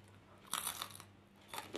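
Crisp bites into crunchy air-fried potato gnocchi made from packaged gnocchi, a few quiet close crunches in two short bursts with no talking.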